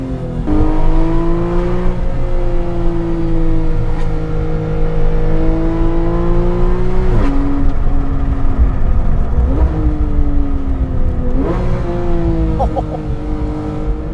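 A Porsche 911 GT3 (991.1) engine revs hard through the gears, climbing repeatedly toward its 9,000 RPM redline with a rising howl, brief drops at each shift, loud and close from inside the car.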